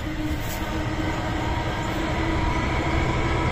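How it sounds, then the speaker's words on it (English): A train passes close by on a nearby railway near Macclesfield, a steady loud rumble of rolling stock with a sustained tonal hum, heard alone without any voices. "I'm hearing a train."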